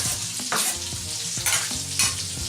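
Onion and garlic fry in a pan with a steady sizzle, while a utensil scrapes and stirs in repeated strokes about every half second, close and fairly loud.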